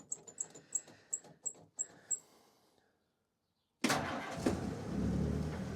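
A carbureted Jeep engine is cranked without choke: a run of rapid starter whirs, a pause, then it fires and settles into a loud, steady near idle.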